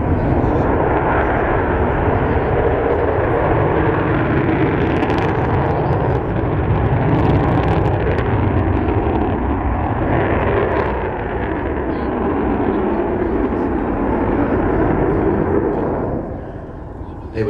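An Avro Vulcan XH558 jet bomber roars at full power during an airshow display, a thick, sustained, rumbling blast that stays loud throughout and fades slightly at the end, with voices heard over it.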